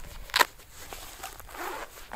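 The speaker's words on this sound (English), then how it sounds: "zip that down" A zipper on a women's ice fishing suit is pulled open in one quick, close rasp, followed by softer rustling of the suit fabric.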